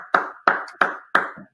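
Four sharp, evenly spaced hand claps ring out close and clear, each with a short echoing tail, with no voices.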